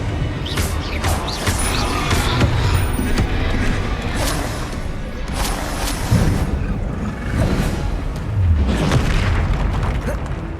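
Repeated Confringo fire-spell blasts in the Hogwarts Legacy video game, a series of loud booming bursts with crackling debris layered over dense, continuous combat noise.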